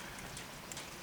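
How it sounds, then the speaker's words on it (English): Steady rain falling after a thunderstorm has moved through, a soft, even hiss of drops on surfaces, fairly faint and uninterrupted over a short moment. "I mean, it's still raining."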